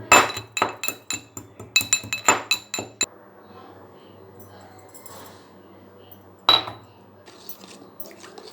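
A spoon stirs spices into pani water in a bowl, clinking quickly and rhythmically against the sides for about three seconds, then after a quiet pause one last sharp clink rings out.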